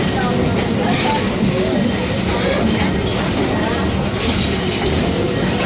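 A ride-on train pulling into its depot rumbles steadily along with clattering wheels and rail noise, a constant loud mechanical roar with no pauses.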